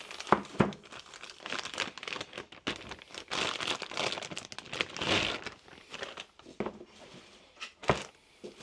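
Plastic wrapping crinkles and rustles continuously while being handled during silicone mold making, close and fairly quiet, with irregular crackling bursts and a few sharper crunches.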